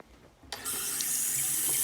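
Hot water from a tap after a new water heater tank installation: quiet for half a second, then a sudden steady gush of running water that continues strongly to the end.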